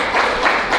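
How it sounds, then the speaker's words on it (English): Audience applause at a DC Latino caucus endorsement event, a short steady burst of loud clapping from a crowd. "Let's give that a round of applause."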